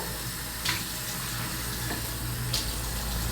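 Steady tap water runs into a sink as someone wets their face during a morning skin care routine, a constant close hiss with a couple of faint splashes.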